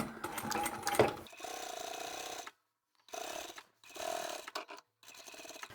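A sewing machine stitches binding onto a quilt edge at a quarter-inch seam, running in several close, steady bursts separated by short silent pauses.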